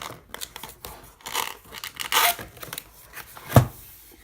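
Cardboard and plastic packaging tear and crinkle as a Logitech G213 Prodigy gaming keyboard box is opened, giving close, irregular rustles and rips with one sharp louder tear near the end.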